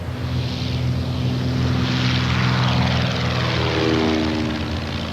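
A propeller airplane drones overhead, its steady engine hum loud and continuous, swelling slightly and shifting in pitch as it passes.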